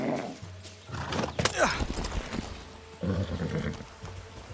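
A horse in the video game Far Cry 6 whinnies and snorts over steady clip-clop hoofbeats, close and fairly loud, with a brief second burst of hooves after a pause.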